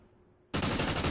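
Gunfire erupts abruptly in a first-person shooter match after a quiet moment, a loud, dense burst of rapid shots that fills the rest of the moment.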